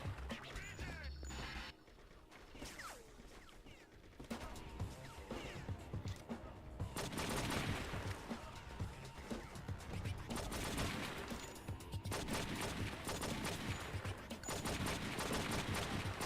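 Gunfire in the video game True Crime: New York City crackles in dense, rapid bursts under a busy mix of in-game noise, with shots and impacts running almost continuously through the stretch.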